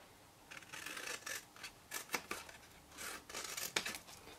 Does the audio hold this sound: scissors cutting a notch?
yes